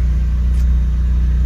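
Honda S2000 engine running at a steady idle, a continuous low rumble close by with no speech.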